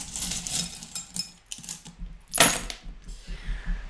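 Small metal divination charms shaken and cast during a tarot-style reading, a series of light metallic jangles and clinks with a sharp tumble near the middle, close and alone without talk.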